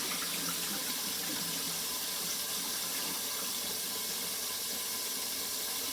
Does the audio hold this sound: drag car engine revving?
no